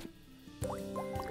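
Short, quiet squishing and dripping liquid cues from an orange syringe in the hospital game Heart's Medicine, with a couple of soft bubbly blips layered over faint game music.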